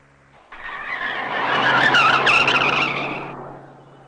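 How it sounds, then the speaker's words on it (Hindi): A speeding car skids with a loud tire squeal that swells quickly after a brief quiet moment, peaks around the middle and fades away over a few seconds, heard alone without talk. "तो फिर ये गाड़ी इतनी तेज क्यों चला रहा था?"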